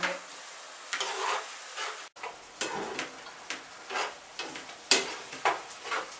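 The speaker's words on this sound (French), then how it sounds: "Nos lardons qui commencent vraiment à très bien prendre, c'est super." Bacon lardons frying in a pan, a close sizzle broken by repeated scraping stir strokes at an irregular rhythm, with no talk over it.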